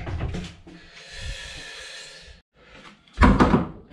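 A door swings open into the en suite head aboard a Balance 601 catamaran, giving a soft click and a sustained sliding rub, then a louder knocking clatter near the end. The sounds are close and there is no speech.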